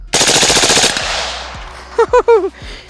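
A suppressed AR rifle set to a fast-fire mode empties a magazine in one loud, rapid burst of close shots, followed by a few isolated sharp cracks and brief ringing tones.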